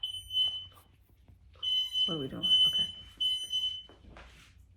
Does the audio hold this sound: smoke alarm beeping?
yes